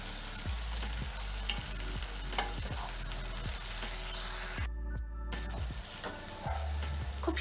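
Ground turmeric, chili, cumin and coriander powders frying in oil for masoor dal tadka, a steady close sizzle with repeated scraping stir strokes, a brief splash-like hiss midway, no talking.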